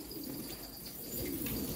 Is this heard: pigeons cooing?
yes